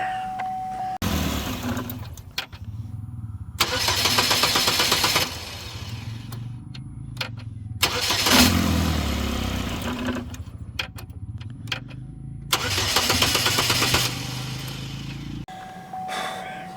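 Chevrolet HHR engine cranking repeatedly with a hung-up starter, loud broadband bursts of several seconds each separated by quieter gaps, close by, with no talking.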